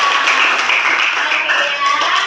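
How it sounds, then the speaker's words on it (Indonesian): Children in a kindergarten classroom clap for two classmates, a dense, steady patter of many small hands filling the room, with voices mixed in beneath. "Oke, silakan dulu berikan tepuk tangan untuk Nazra dan Nurkaila."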